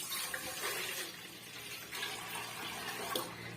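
Water pours from a measuring cup into a cooking pot for ragi kali, a short burst of gurgling, splashing flow heard close at moderate volume with no voices.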